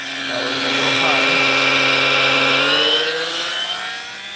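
A Ryobi ONE+ HP 18V brushless 1/4 HP cordless battery transfer pump motor whines steadily and close, rising slightly in pitch as it ramps up to its high setting, with a continuous tonal hum throughout.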